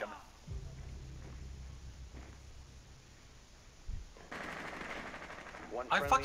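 Rapid automatic gunfire in Rainbow Six Siege on the Coastline map during a Secure Area match, a sustained low burst followed by sharper crackling volleys and bright impacts near the end, with game sounds mixed underneath.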